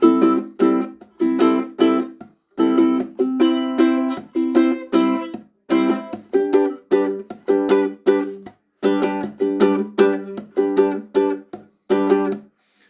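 Bright plucked-string chords strummed in a steady, bouncy rhythm, repeated patterns with short pauses between phrases, close and clear.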